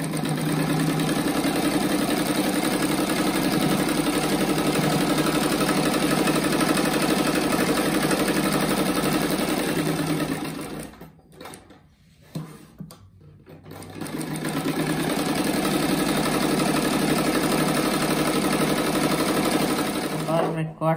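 A sewing machine runs a long continuous seam around the edge of a fabric rug, a steady close motor whir with rapid needle chatter. It pauses briefly near the middle before resuming, with speech over it.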